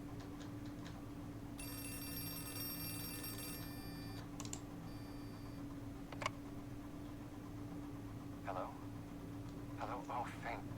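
A telephone rings in the horror video game Outlast 2, a steady repeated ringing tone against a low droning ambient background, with brief clicks and a few scattered sounds.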